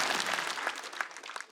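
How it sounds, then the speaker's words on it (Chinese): A studio audience at a live Chinese stand-up comedy competition claps for a comedian, a dense, steady wash of applause that fades slightly toward the end. "掌声再给宋万博。"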